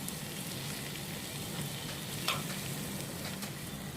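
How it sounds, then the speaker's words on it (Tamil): Steady sizzling of ginger garlic paste frying in hot oil, a continuous crackling hiss with occasional small pops, no voices. "இஞ்சி பூண்டோட பச்சை வாசனை போகிற வரைக்கும் இதை எண்ணெயில் நல்லா வதக்கிடுவோம்."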